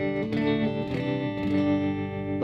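Electric guitar through an amp's built-in tremolo, set with a light amp reverb, plays sustained chords whose volume pulses steadily, loud and alone.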